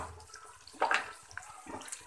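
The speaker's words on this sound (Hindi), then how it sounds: "अब मैं इसमें पानी लगा दूँगी।" Water is poured into a pressure cooker holding chicken feet, with a short splashing surge in the middle and quieter trickles and clinks before and after, all fairly soft and close.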